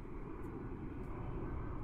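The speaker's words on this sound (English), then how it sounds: "Hear the airplane again." A steady, fairly quiet drone of an airplane flying overhead in the VRChat video game, a continuous low engine rumble with no talking over it.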